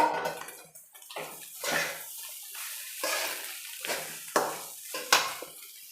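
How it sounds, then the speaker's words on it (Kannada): Cooked basmati rice is stirred into a pan of fried beetroot and egg, giving repeated scraping, tossing strokes and faint sizzle in short bursts, close and without talk. "ಈಗ ಅನ್ನ ಸೇರಿಸ್ಕೊಳ್ತೀನಿ"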